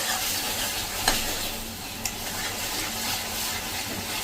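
Garlic and onion chutney paste fries in oil while a spoon keeps stirring it, making a continuous close sizzle with a couple of sharp scraping taps against the pan.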